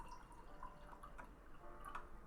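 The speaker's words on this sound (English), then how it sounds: "Sorry, pouring my tea with my other hand." Tea poured into a cup at close range, a faint trickling and dripping stream of liquid that continues steadily for a couple of seconds in a quiet room.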